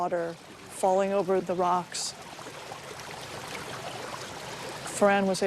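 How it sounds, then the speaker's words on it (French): A steady wash of water splashing over stones in a garden stream in a US city, with a person talking over it at the start and end. "C'est ce qui produit ce son de l'eau qui tombe sur les pierres."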